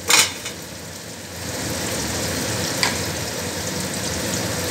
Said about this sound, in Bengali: এবার এর মধ্যে একে একে আমি মশলাগুলো দিয়ে দেবো।